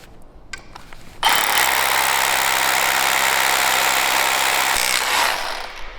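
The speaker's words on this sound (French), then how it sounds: "Et ici je perce." A power drill bores into a wooden part during chalet assembly, starting abruptly with a loud, steady whine that holds for about four seconds before easing off, with no talking.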